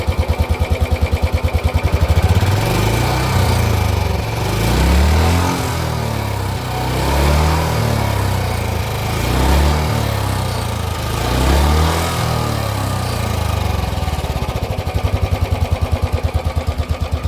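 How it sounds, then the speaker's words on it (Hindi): A single-cylinder Royal Enfield Standard 350 motorcycle engine thumps steadily at idle, then revs up and down in several slow swells before settling back to a loud, pulsing idle. "अब हम इस बाइक को थोड़ा सा रेव करते हैं, चेक करते हैं कि इसका थम्पी नोट आपको कैसा लगता है।"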